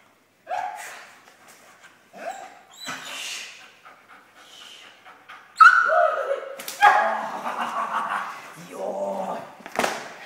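A dog in protection training, with close yips, whimpers and panting, a few sharper bursts and a human voice calling between them.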